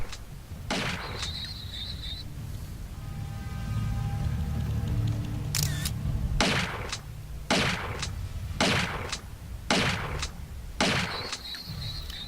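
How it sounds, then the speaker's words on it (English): Repeated shotgun blasts fired at giant scorpions in a Tomb Raider game, about five sharp booming shots spaced across a busy backdrop of game ambience and echoing effects, with no voices. "let's get the shotgun out and make shorter work of these"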